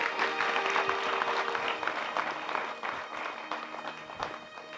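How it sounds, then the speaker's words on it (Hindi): An audience claps together at a Hindi spiritual discourse, a dense, sustained burst of many hands that fades slightly toward the end, loud and close with no speech over it. "ताली ठीक से बजनी चाहिए।"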